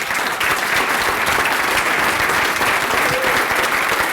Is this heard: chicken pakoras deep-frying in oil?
no